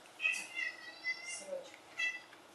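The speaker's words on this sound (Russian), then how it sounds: "А вон там кот, который хочет кушать." A hungry cat being fed cheese gives several short, high meows in quick succession, close by and fairly quiet, with pauses between each call.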